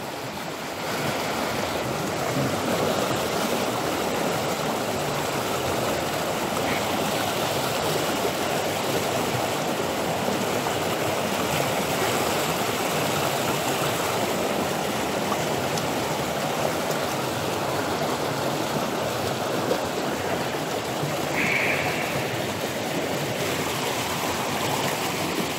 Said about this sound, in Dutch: De beek is een beetje rustiger geworden